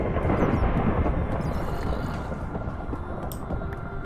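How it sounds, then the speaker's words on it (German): Low, continuous rumble of thunder from a lightning strike in Minecraft, rolling steadily and fairly loud from start to finish with no distinct crack, layered under faint ambient game sounds. "Irgendwo schlägt hier gerade ein Blitz ein."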